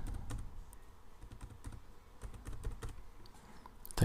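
Computer keyboard typing in quick irregular bursts of soft clicks and taps, close and fairly quiet, with no talking.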